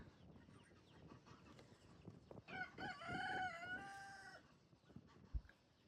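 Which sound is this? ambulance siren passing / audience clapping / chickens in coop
chickens in coop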